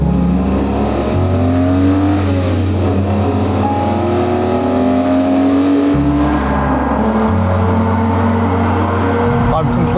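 BMW E46 M3 Touring driving on a Welsh road, its straight-six engine note rising and falling through loud, close revving pulls and gear changes, with a person talking over it.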